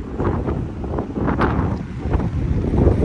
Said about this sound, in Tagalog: Hangin, mahangin.